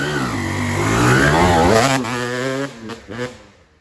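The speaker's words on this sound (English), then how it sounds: "So this is my dirt bike, if you guys don't know." A two-stroke dirt bike engine revs hard and loud up close, the pitch climbing and falling before two short blips trail off as the engine winds down.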